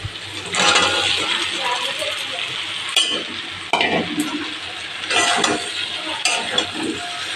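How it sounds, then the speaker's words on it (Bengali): Potatoes frying and being stirred in a pan, a continuous close sizzle broken by scraping and clinking stirs, with faint voices in the background. "কষানো হয়ে গেছে আলুটা, আর আমি এগুলোকে সব কটা একসাথে দিয়ে কষিয়ে নেব"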